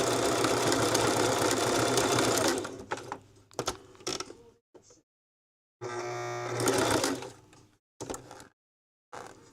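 Home sewing machine stitching in quick whirring runs, loud and close, with two main bursts separated by pauses and small clicks and handling noises; no talking.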